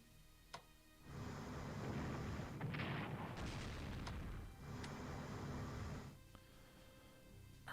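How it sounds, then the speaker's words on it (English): Artillery bombardment in the World War II strategy video game Strategic Command: World at War, a run of layered booms and rumbling blasts that swell and overlap for several seconds and then cut off, with no talking. "with a heavy bombardment from artillery to see if we can't maybe destroy a unit or so"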